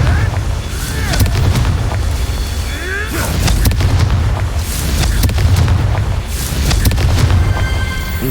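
Confringo explosion spells in a Harry Potter video game, with repeated booming blasts and whooshing magical sweeps over a low rumbling background, fairly loud.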